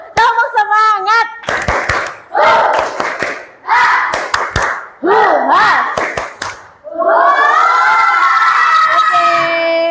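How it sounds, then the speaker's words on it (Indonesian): Primary school children in a classroom clap a rhythmic spirit-clap pattern in loud bursts, chanting and shouting along in unison. "Oke, kita tepuk semangat dulu. Tepuk semangat."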